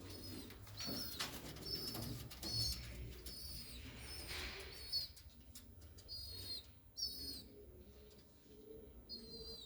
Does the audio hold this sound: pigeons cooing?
yes